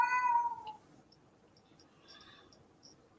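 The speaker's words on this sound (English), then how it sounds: "Hello, Mischief the cat." A cat gives one clear, drawn-out meow up close at the start, and then a few faint clicks and small noises follow in near silence.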